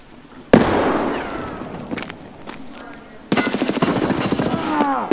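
Video game combat with grenades detonating and gunfire: a sharp blast at the start, crackling aftermath, then a long rapid automatic burst in the second half, loud and close.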